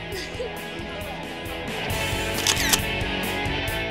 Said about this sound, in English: I'm going to get all New York Selfie now. with Hayden.